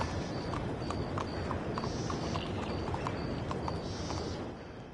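Horse hooves clip-clop steadily at a walking pace in the video game Red Dead Redemption 2, close and clear over a constant outdoor ambience with faint birdsong, fading slightly at the end.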